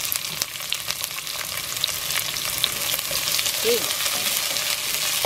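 Sliced onions fry in hot oil in a pan for pancit lomi, giving a steady broad sizzle throughout with brief soft stirring clatter; one person says a single short word over it.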